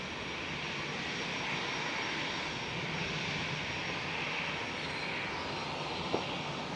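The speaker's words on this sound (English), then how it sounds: "737. ITA right there, taxiing into the gate." A Boeing 737 taxis toward the gate at Schiphol airport, its engines giving a steady, continuous broadband roar at moderate distance, unbroken for the whole stretch.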